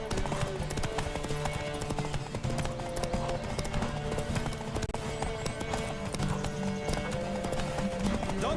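A horse gallops in The Witcher 3: Wild Hunt, rapid rhythmic hoofbeats pounding steadily and close throughout, with game music and effects layered underneath.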